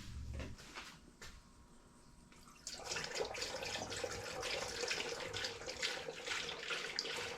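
Coolant, an ordinary 50-50 premixed antifreeze, pours steadily into the cooling system of a 1984 Bertone X1/9. A liquid gurgle and splash comes in near and fairly loud after a quieter start, and continues to the end.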